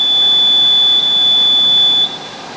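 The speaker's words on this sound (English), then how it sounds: "then a double beep" A steady high electronic tone from a triaxial test machine's countdown holds for about two seconds and then cuts off, over a quiet background hiss.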